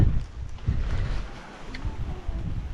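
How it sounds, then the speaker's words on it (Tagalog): Strong wind gusts on a hilltop at Marlboro Hills in Sagada, buffeting the microphone in uneven low rumbling surges that rise and fall throughout. "Lakas ng hangin."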